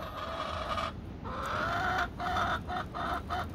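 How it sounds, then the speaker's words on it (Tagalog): Chickens in their coop at home cluck and murmur close by, a run of short repeated calls over a steady background of wind noise. "Ito ang mga manok natin guys, oh, gusto nang lumabas. Mga chickens."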